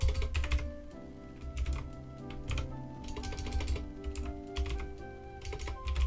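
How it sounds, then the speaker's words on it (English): Steady typing on a computer keyboard, close and clear, with quick irregular keystrokes and short clusters of clicks running throughout. "let me type it out"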